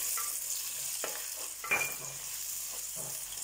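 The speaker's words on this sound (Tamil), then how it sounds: "சின்ன வெங்காயத்தை அதில் போட்டுக்கேன். போட்டு நல்லா வதக்கணும்." Small shallots being sautéed in a clay pot for village-style fish curry, a quiet, steady sizzle with a few soft stirring scrapes, close and alone.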